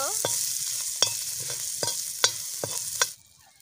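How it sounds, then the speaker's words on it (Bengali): Four split chillies and turmeric powder stirred and fried in a pan, a faint sizzle broken by about seven sharp spatula scrapes in an uneven rhythm that stop abruptly near the end. "এটাকে আমি নেড়ে চেড়ে বাদামি রং করে নেব"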